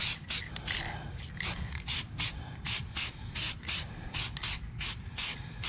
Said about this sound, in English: You're lightly going to spray it on.